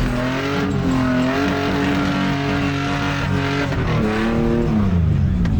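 An off-road vehicle's engine revs hard and steadily as it climbs an undercut rock ledge, its tires slipping on wet rock, a loud close motor note rising and falling in pitch with no talking.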